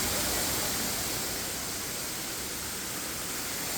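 Waterfall at the Cachoeira do Paulista campsite, a dense, steady roar of falling water that stays loud and even throughout with no voices over it.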